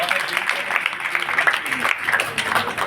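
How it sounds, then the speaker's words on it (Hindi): Loud crowd applause fills the room at a Hindi-language summer camp inauguration, with a municipal council chairperson as chief guest; the clapping is dense and steady throughout. "मैं चाहता हूं इनके लिए एक बार जोरदार तालियों से इन लोगों का"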